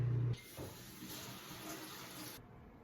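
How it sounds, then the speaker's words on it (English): Water from a tap runs steadily over balloons held underneath, a continuous close hiss and splash that starts after a brief pause and stops abruptly near the end. "That's the sound of me running the balloons underwater to try and make them less statically charged."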